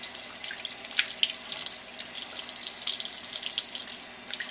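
Tap water runs into a sink while a cleaned clam is rinsed, a soft, uneven splashing and trickling that rises and falls as the shell moves under the stream.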